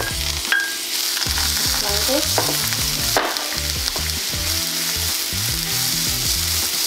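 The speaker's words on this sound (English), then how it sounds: "You're gonna add some more vegetable oil, then gonna fry some carrots for a couple more" Carrots frying in vegetable oil for vegan pad thai, a loud continuous sizzle broken by the scrape and clatter of stirring in the pan, with a brief spoken remark over it.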